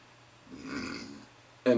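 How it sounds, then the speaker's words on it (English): A single low, rumbling burp after a swallow of Southern Tier Creme Brulee beer swells and fades over about a second, followed by a brief burst of a voice. "the beer burps"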